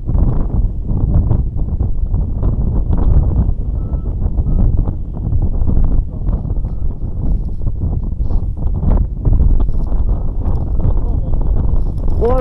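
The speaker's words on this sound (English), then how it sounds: "Mate, it's a lovely constant wind." Strong, constant wind roars across the microphone on Cats Tor, a heavy low rumble that never lets up, with people talking faintly beneath it.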